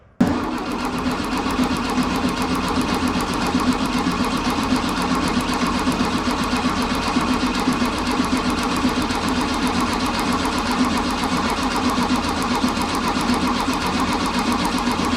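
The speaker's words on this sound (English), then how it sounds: "I'll connect the battery and turn the engine over for 20-30 seconds" An air-cooled Volkswagen engine with a disconnected ignition coil is cranked over on its starter, a loud, steady, even churning that runs without a break for the whole stretch, no voices.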